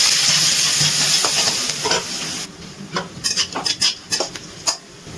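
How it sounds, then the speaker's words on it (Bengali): Onions fry in hot oil in a pan while being stirred. A steady broadband sizzle fills the first half, then gives way to a series of close, sharp scraping and clattering stirs against the pan. "পেঁয়াজগুলো ভেজে নেব।"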